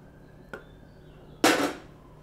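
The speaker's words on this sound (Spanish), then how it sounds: "Aceite en un sartén hirviendo." Boiling oil in a frying pan for a snook and shrimp dish bursts into a loud, close hiss that fades over a second, preceded by a faint tick in a quiet kitchen.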